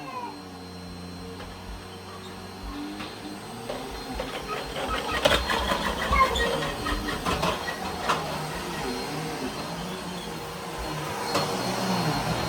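A vacuum cleaner runs steadily over a couch indoors at home, its constant whirring drone broken by irregular bumps and scrapes as the nozzle moves across the cushions, with no clear talking.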